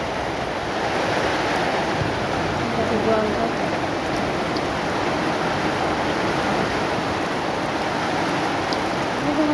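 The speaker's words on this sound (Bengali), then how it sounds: "বন্ধুরা আমি ঘরের দরজা বন্ধ করবো কারণ খুব বৃষ্টি পড়ছে" Heavy rain pours steadily during a hailstorm, a dense continuous roar with a windy, surf-like wash that stays loud throughout, with no clear individual hail impacts standing out.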